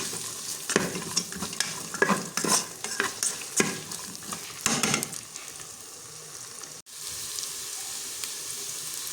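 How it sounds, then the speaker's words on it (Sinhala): Carrots are stirred into mixed rice frying in a pan: brisk, close scraping and tossing strokes over a steady sizzle, which is left alone and softer once the stirring stops partway through. "කැරට් ටිකක් දාලා පොඩ්ඩක් මික්ස් කරන්න."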